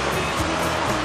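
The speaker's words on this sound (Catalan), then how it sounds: "El mar està avui fatal." Rough sea waves surging and breaking against the rocks near Portitxol, a continuous loud wash of surf with no pause.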